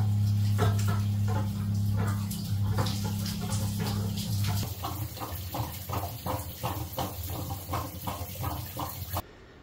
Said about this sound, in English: time for a shower.